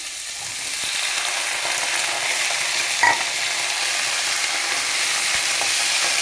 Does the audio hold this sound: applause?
no